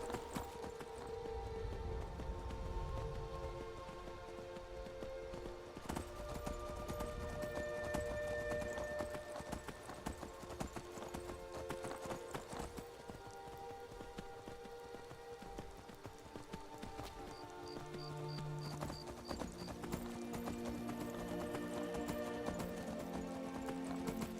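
Steady clip-clop of horse hooves plodding along in the video game Skyrim Anniversary Edition, with rain-like patter and game music underneath, continuous and fairly close.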